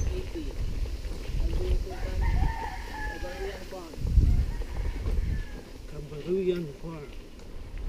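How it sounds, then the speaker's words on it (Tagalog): Chickens and roosters at a trail stop during a bike ride, a crow rising over scattered clucks, with people talking nearby throughout. "Ang daming manok."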